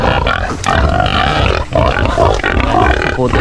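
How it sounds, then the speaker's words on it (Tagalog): Free-range pigs grunt and snort steadily at close range in a farm pen after rain, a dense, continuous mix of overlapping animal calls with a few sharper squeals. "Ito namin yung mga baboy namin pre-range."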